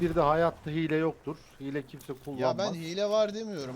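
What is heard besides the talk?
No distinct noise like a dog, phone or traffic.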